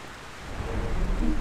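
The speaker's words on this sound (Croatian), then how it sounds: "pada kiša" Rain falling in the video game GTA San Andreas makes a steady, dense hiss that grows slightly heavier over the short stretch, with no voices.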